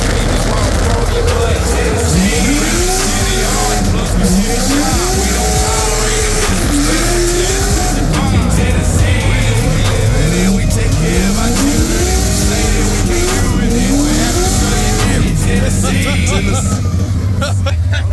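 A 7.1L V8 big-block drift ute engine revs and accelerates over and over, its pitch climbing in repeated sweeps. The roar is loud, close and continuous, with hints of tyre squeal.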